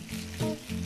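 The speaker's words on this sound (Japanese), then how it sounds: "牡蠣を入れていって炒めていきます" Oysters fry in a pan with garlic miso, giving a steady close sizzle with a brief louder burst of crackle partway through, and no voices.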